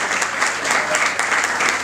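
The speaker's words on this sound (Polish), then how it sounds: "Wielkie brawa." Audience applause fills a sports gala hall in Mielec, a dense steady clatter of many hands clapping close by, with no break across the brief moment.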